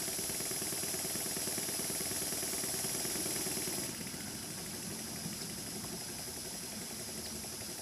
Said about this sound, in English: This is the little mill engine running in one direction.